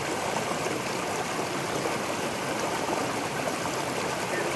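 River water rushing on a farm, a dense continuous broadband roar that stays steady and close throughout, with no talking heard.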